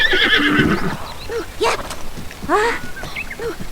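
A horse in a Zelda video game whinnies several times with bright, rising calls, with a few hoof clip-clops underneath; the sounds are close and clear over a quiet game background.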